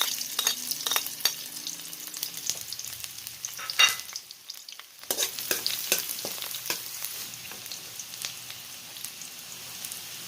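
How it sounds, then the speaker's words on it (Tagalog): Chicken sautés with garlic and spring onion in a pan, giving a steady close sizzle broken by stirring scrapes and a brief lull midway, with no one speaking. "Sa parehong kawali, dito ko lang din igisa yung chicken."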